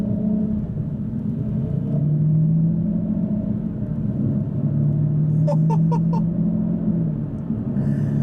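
A 2016 Aston Martin V12 Vantage S rumbles while driving, a loud, steady low cabin drone with a slight rise in pitch midway, and a few faint chirps near the end.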